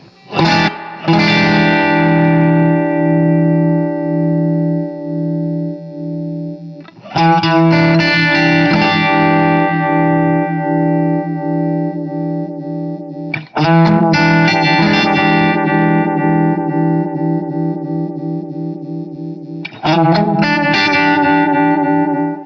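Electric guitar chords ring out one at a time through a Fulltone Deja'Vibe pedal at high intensity, four loud strums left to sustain, each swirling with a deep, throbbing modulation wobble that gives a watery, pulsing tone.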